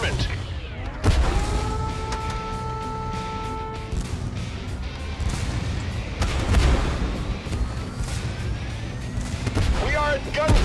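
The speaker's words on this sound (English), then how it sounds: "Bombardment!" Artillery bombardment in the tank combat video game Tank Force: repeated booms and blasts with whistling incoming shells, dense and layered over about ten seconds, with game noise throughout.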